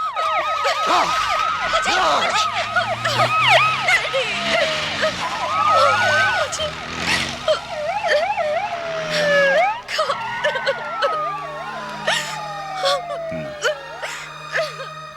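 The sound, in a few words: fire engine siren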